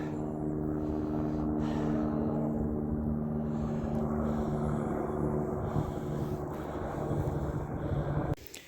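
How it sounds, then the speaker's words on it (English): A steady droning helicopter engine rumble with a low tonal hum persists throughout as it passes overhead in rural country, with some wind buffeting the microphone. "This helicopter's been buzzing overhead for a while."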